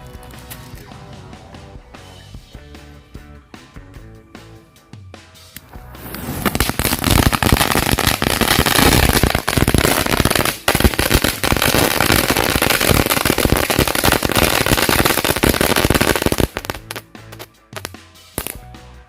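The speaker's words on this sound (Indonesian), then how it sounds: "selanjutnya kita nyalain mercon dari Cina Green Lighting" A long string of Chinese Green Lighting firecrackers bursts loudly in a dense, continuous crackling barrage that lasts about ten seconds, with scattered pops before and after and outdoor ambience around it.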